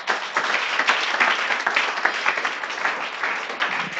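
Congregation applause at a Christian sermon, a dense steady wash of many hands clapping, fairly close and loud, with no voices over it.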